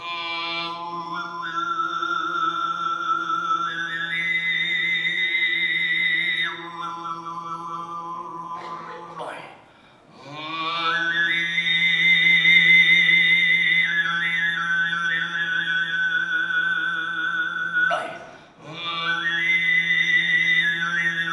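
Mongolian throat singing in the ishira style, a vocal imitation of the sky: a steady low drone with a piercing whistle-like overtone melody gliding above it, broken by two short breaths and performed solo.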